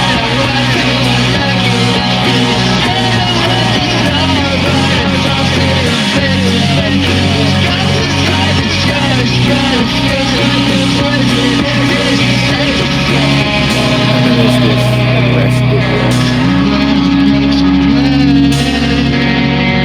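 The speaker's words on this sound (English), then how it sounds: "distorted sound like the start with a really fast auto pan on it" Heavily distorted vocals swept rapidly left and right by a very fast auto-pan, sitting continuously over a dense, loud music backing with steady bass and drums throughout.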